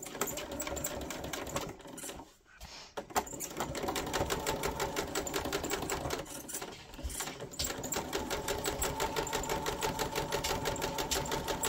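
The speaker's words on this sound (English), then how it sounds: "I'm going to backstitch." Sewing machine stitching a seam on 18th-century fall front trousers, a steady fast mechanical whirring that runs close and loud, with two short pauses near the start and middle while backstitching.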